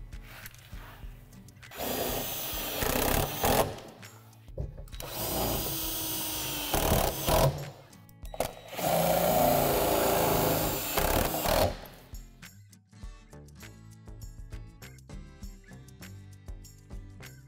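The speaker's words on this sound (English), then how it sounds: "secure through the divots with the self-tapping screw" Self-tapping screws driven into a plastic playhouse wall panel with a power drill, three loud whirring bursts of a few seconds each separated by short pauses, followed by quieter clicks and handling noises.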